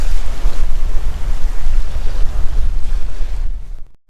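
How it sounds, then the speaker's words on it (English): Strong wind buffeting close to the microphone on a riverside foreshore, a continuous low roaring rumble that cuts off abruptly at the end. "Oh, very windy."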